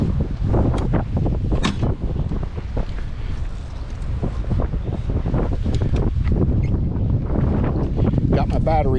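Heavy wind buffets the microphone during an e-bike ride in strong winds, a loud continuous roar with gusting surges throughout, close and overwhelming, with no clear talking.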